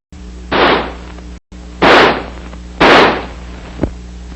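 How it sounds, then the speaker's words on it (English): XM16E1 5.56mm rifle fired semi-automatically, three sharp loud reports spaced about a second apart, each with a short reverberant tail, plus a faint metallic click afterward. "By closing the bolt and turning the selector lever to semi, the rifle will fire semi-automatically."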